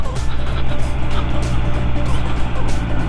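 A motorcycle coasts downhill in neutral, with a low, steady engine idle buried under constant wind and road rush. The noise stays loud and unbroken throughout.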